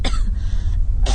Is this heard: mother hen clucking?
no